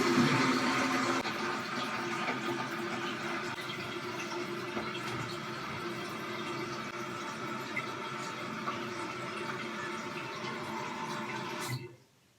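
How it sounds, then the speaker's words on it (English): A toilet tank refills after its water supply is turned back on: a steady, loud rush and hiss of water pouring in that runs for about twelve seconds and then cuts off abruptly. "Now it's time to turn on the water."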